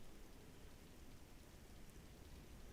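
Steady rain in Microsoft Flight Simulator 2024 on a flight from Oslo to Bergen, a continuous soft hiss of falling drops, very quiet and even throughout, with no voices.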